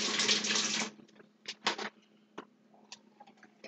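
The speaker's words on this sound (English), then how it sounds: "I put in the water." Water pours into a container while preparing apple cider vinegar water, a close splashing stream for about a second, followed by several light clinks and taps of bottle and container handling.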